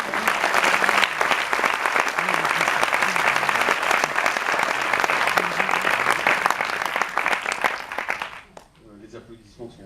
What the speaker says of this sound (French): Les applaudissements ne sont certainement pas pour moi.